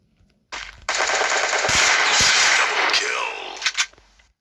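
A burst of loud, sustained gunfire from the mobile game Free Fire Clash Squad roars for about three seconds, followed by two sharp separate shots, close and with no voices.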